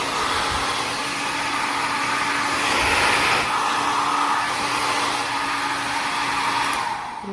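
Slopehill 1800W professional ionic hair dryer running steadily on its cool setting, a close, even, loud whirring blow with a faint motor hum beneath it, unbroken until a slight change near the end.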